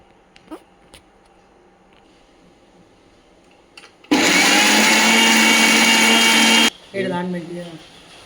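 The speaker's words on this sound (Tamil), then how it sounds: "புளியை மிக்சி ஜாரில் போட்டு அடித்து கரைச்சி எடுத்துக்கிடுவோம்" A mixer grinder whirs loudly in a mixie jar blending tamarind, a steady high-speed roar lasting a couple of seconds after quiet kitchen rustles, then cutting off as the motor winds down.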